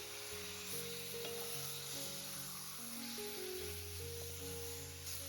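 Masala spice mix with turmeric frying in oil in a pan for a Maharashtrian chicken curry, a soft continuous sizzle under a steady tonal hum, with no one talking.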